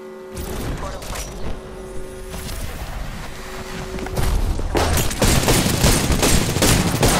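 Video game gunfire, rapid bursts of shots and booms over a dense battle backdrop, growing heavier and louder toward the end.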